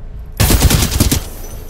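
Rapid automatic gunfire in the video game Titanfall 2, a loud close burst of about eight quick shots lasting under a second, then fading.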